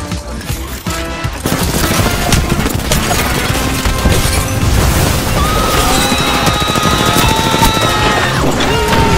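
A rocket launcher explosion in the Apex Legends video game booms loudly, followed by a dense, continuous barrage of gunfire and crashing impacts.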